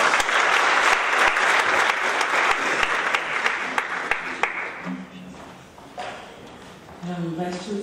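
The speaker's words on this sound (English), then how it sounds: "Let's give a round of applause." Loud applause from an academic lecture audience that starts dense and steady, then thins out and fades, with a few voices and tones emerging near the end.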